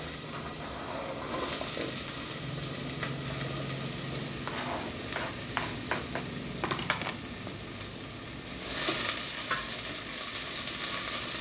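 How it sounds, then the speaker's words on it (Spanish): Sliced zucchini fries in hot oil in a pan, a continuous close sizzle with bursts of crackle and scraping as it is stirred, and no talking. "Vamos a ir friendo bien y vamos a colocar la cebolla, el jitomate y el chile."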